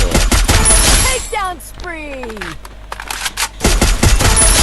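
Bursts of automatic gunfire in Garena Free Fire MAX, rapid loud volleys at the start and end with quieter game sounds and rising-falling effect tones in between, heard close.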